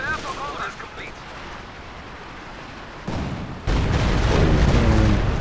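A Walking Stuka rocket artillery barrage in Company of Heroes 2, starting as a low rumble under game noise, then swelling into loud, sustained booming impacts that fill the last two seconds.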